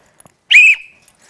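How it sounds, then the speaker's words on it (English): A dog-training whistle gives a single loud, clear blast of about a quarter second in a quiet house, with a couple of faint taps before it and a short fading tail after. "I'm going to blow the whistle."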